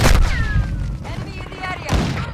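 Gunfire in a Call of Duty match: a loud cluster of shots and thuds at the start, quieter activity, then another heavy burst near the end, with game voices speaking over the battle noise.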